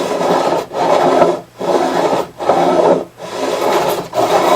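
Close rasping file strokes grinding against guitar fret ends, four long pushes separated by short gaps, loud and steady with no voices.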